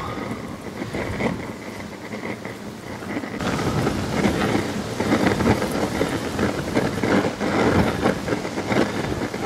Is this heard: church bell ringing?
no